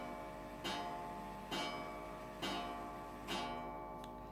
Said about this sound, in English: One of the clocks is chiming.